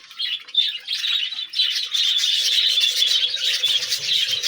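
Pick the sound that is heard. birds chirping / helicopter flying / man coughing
birds chirping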